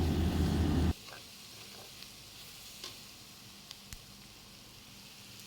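Onion and capsicum frying in a pan, a loud dense sizzle for about a second that drops abruptly to a faint hiss with a few light clicks.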